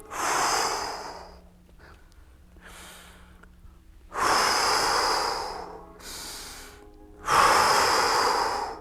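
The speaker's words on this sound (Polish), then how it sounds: "I głęboko oddychamy." Deep, deliberate breaths during a chest and shoulder stretching exercise with a stick, loud airy inhales and exhales close to the microphone in three long pulls separated by quieter pauses.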